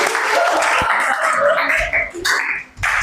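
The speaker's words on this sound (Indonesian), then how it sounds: "Kita kasih tepuk tangan dulu" Applause from a group at a church discipleship session, a broad wash of clapping with some vocal noise mixed in, thinning and dropping out briefly near the end.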